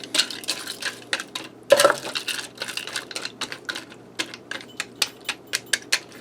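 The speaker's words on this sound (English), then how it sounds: "Get my pasta down in there." Dry pasta tipped into a pan for a one-pan cheesy sausage dish, producing a scattered run of hard, dry clicks and ticks at an irregular rhythm, close and crisp with no talking.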